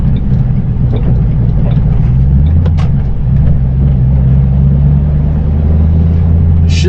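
A 2006 Ford Roush Mustang GT idles and rolls through a turnaround, its engine a steady, loud low rumble close by throughout, with a few faint knocks and a brief higher noise near the end.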